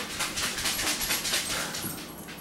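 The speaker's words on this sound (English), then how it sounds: "after my dog is done running around" A dog pants rapidly and steadily after running around indoors at home, close by, with quick rhythmic breaths and a faint whimper, no talking over it.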